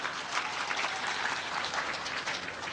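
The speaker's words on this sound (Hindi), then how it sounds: "ताली बजाइए जोर से बढ़िया से।" A crowd at a spiritual discourse claps loudly and continuously, with dense, hissing applause that holds steady throughout.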